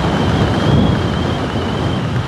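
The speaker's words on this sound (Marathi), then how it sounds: "टिपकं पडायला लागलेत पावसाचं." Rain begins falling outdoors on a Konkan road trip, a loud, steady broadband hiss with low wind rumble throughout and no voices.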